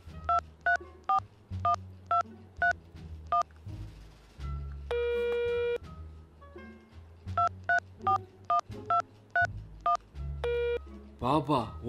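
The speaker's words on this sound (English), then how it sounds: "Call the number on the card." Telephone keypad tones dialing a number, with two bursts of quick, evenly spaced beeps, close and clear, broken by a steady tone and a short chime. A low hum runs underneath.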